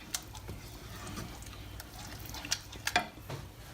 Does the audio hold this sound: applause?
no